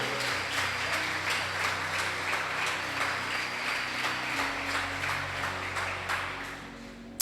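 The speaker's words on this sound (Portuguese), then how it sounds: "Você pode aplaudir ao Senhor porque Ele é digno" Moderately quiet applause from a church congregation during a sermon, a continuous wash of clapping with low organ-like sustained tones beneath it.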